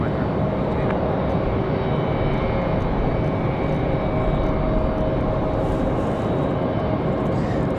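A jet airliner takes off from Raleigh-Durham airport on a windy day, producing a loud, continuous engine roar with a faint steady whine running through it, mixed with wind noise.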